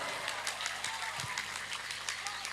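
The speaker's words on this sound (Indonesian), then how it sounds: "Tepuk tangan buat santri-santri Banten" A crowd gathered for a religious lecture gives a faint, scattered round of applause for Banten Islamic boarding-school students, with a voice murmuring underneath.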